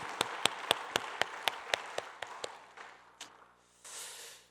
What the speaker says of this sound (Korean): 우리 하나님께 영광의 박수, 감사의 박수 올려드립니다.